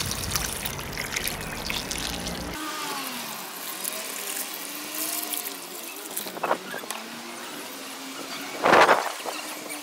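Water poured or trickling onto tomato plants growing in pots, a soft steady splashing dribble close by, with a few faint squeaks and a short louder splash near the end.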